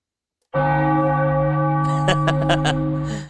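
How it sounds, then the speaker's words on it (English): A bell rings out to celebrate an Eagles victory over the Rams at SoFi Stadium, struck once loudly and ringing with a long sustained tone, followed by several quick lighter strikes near the end. "I just had to play the bell."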